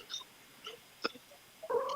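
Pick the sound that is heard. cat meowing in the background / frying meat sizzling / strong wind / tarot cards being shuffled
cat meowing in the background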